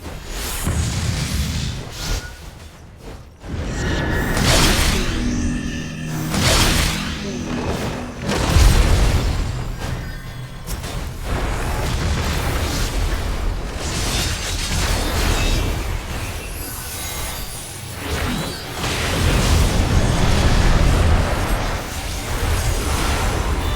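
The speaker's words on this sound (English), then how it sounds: "Bad guys just explode." Enemies blowing apart in Final Fantasy XIV Online, a dense run of booming blasts and whooshes over busy game music and effects, loud and continuous with heavy low-end thumps throughout.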